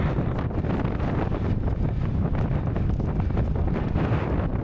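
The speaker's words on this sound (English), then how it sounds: "Oh, it's windy up here." Strong wind on a hilltop in Croatia buffets the microphone in a constant roaring gust, loud and close, with no one speaking.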